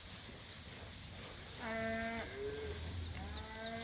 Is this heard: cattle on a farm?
yes